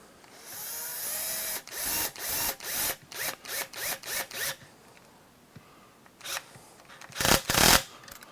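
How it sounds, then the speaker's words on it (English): A screw is driven into a part of an HPI Baja 5SC SS RC car, giving a rapid run of sharp ratcheting clicks in close bursts, then a pause and a few louder clicks at the end. "And we'll screw it in."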